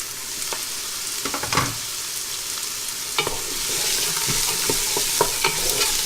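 Garlic and aromatics sautéing in a pan for creamy chicken tortilla soup: a soft steady sizzle with clicks and scrapes of a spoon stirring, a louder clatter early on.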